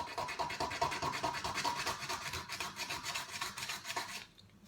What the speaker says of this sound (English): That's going to be sanded down.